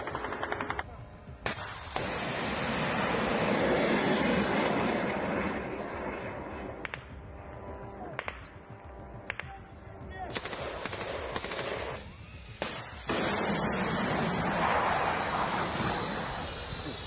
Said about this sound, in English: Hitting such a target with light weapons is difficult, but the soldiers manage it.